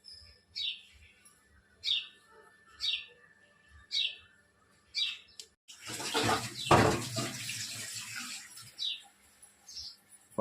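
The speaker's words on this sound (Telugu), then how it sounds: "చూసే పక్షులు ఎలా అరుస్తున్నాయో" Morning birdsong near a home kitchen: a bird repeats a short chirp at a regular rhythm, then a burst of running water or splashing takes over before the chirps return more faintly.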